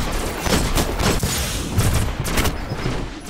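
Rapid bursts of gunfire from the video game Destiny, loud and dense, with repeated shots clustering into volleys that fill the whole stretch without talk over them.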